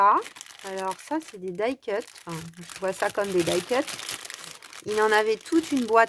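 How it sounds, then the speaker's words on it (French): Paper and cardboard die-cut labels rustle and crinkle in bursts under someone speaking French close to the microphone. "Pardon pour le bruit du papier."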